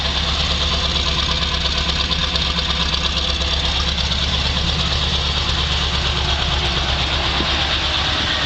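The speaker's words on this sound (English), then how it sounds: "Come back here, listen to the exhaust." A 1971 Chevrolet Camaro Z28 idles steadily with a deep, throaty exhaust rumble, constant and close, with no talking.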